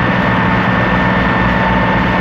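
A small motorboat engine passing in the Cape Cod Canal, a steady low droning hum with constant loudness throughout, heard close and alone with no talk.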